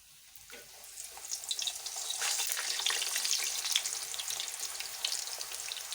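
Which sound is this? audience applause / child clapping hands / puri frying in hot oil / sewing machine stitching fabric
puri frying in hot oil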